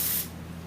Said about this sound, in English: Make it nice and pammy.